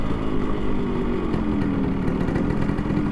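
Yamaha RX100 motorcycle riding at speed, its two-stroke engine droning steadily and close with a dense, buzzy rumble throughout, no talking.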